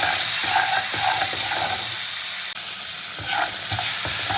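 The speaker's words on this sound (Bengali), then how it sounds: "ধনে পাতা দিয়ে নাড়াচাড়া করে" Chopped tomato with salt and coriander leaves cooks in a hot pan, a dense continuous sizzle with repeated scraping strokes of a spoon, close and loud.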